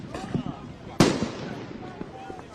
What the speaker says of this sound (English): They're firing some type of warning shots here.